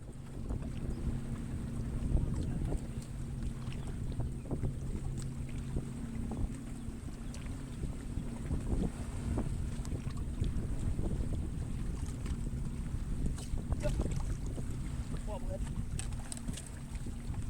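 A fishing boat runs across a lake at a tournament, its outboard giving a low, steady drone under heavy wind buffeting and rushing water, all fairly quiet and continuous.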